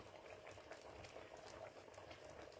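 Fish head curry bubbling steadily in a pot on the stove, a soft continuous gurgling boil, faint and unbroken throughout.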